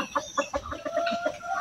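A large native rooster, feverish from the rain, clucks in short, repeated bursts close by, with a steady low background hum and no talking.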